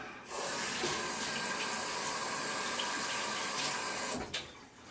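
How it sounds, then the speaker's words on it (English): Running tap water pouring steadily over hands at a kitchen sink, a continuous close hiss that starts abruptly and cuts off near the end. "Now I would recommend rinsing off your hands so you don't get this all over your mixer."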